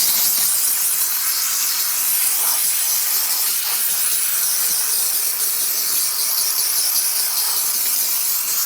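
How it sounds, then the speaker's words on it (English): A steam cleaner blasts a leather door panel inside a 100 Series Land Cruiser, giving a continuous, close, loud hiss with steady spraying texture for the whole stretch and no talk. "just hit it with a little steam"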